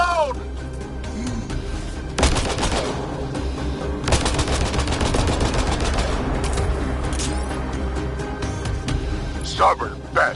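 Dense bursts of video game gunfire, rapid automatic rattles and single shots crackling in volleys from about two seconds on, loud and continuous, mixed with game voices and in-game chatter throughout.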